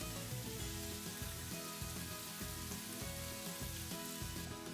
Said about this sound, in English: At this point, I'm just enjoying the sound of the sizzle.